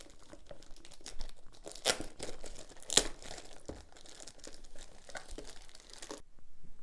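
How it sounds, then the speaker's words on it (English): Plastic sleeve being torn and crinkled off the cardboard box of an Oculus Link cable, close-up rustling and crumpling with sharp tearing bursts near two and three seconds, no talk. "let's go ahead and tear into this box. It does come with like a plastic sleeve on it."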